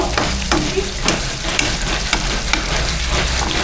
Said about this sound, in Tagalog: Nagisa na tayo ng luya ang una, tapos sibuyas sa Bombay